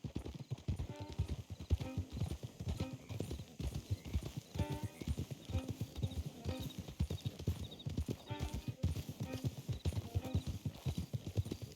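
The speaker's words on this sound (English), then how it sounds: "Don't want the horses clopping around outside the window." Horses' hooves clip-clop steadily on the ground in the Red Dead Redemption 2 video game, a continuous rhythm of close, loud hoofbeats with an occasional whinny and some low voices in the background.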